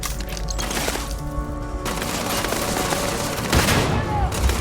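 Rifle gunfire in the sci-fi video game Starfield, quick cracking shots in a steady burst against a dense game soundscape of music and effects, fairly loud throughout.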